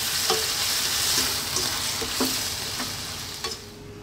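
Fish stir-fried with green onions is stirred in a hot pan, giving a steady close sizzle with repeated scraping and clinking strokes of the spatula, no voices.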